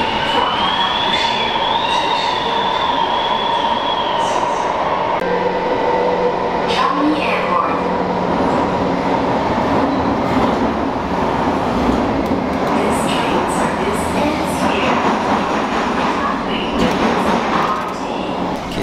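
A Singapore MRT train runs toward Changi Airport, heard from inside the carriage as a continuous loud rumble with high wheel squeals near the start and faint clicks along the track.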